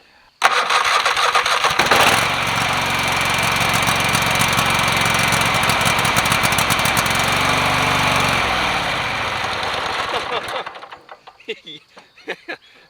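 An engine cranks briefly, catches and roars to life, running loud and steady for several seconds before cutting off near the end, with a few faint sounds afterward.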